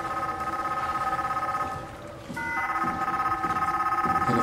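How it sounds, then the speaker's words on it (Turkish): A telephone rings inside the sci-fi horror video game SOMA, a steady electronic tone pulsing over a low ambient hum, pausing briefly before resuming. "Telefon mu çalıyor?"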